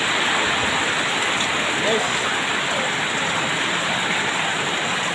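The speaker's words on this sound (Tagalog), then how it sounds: "Pabugso-bugso yung ulan natin" Heavy monsoon rain pouring on a mountain, a dense, loud, unbroken hiss of downpour, with someone briefly speaking over it.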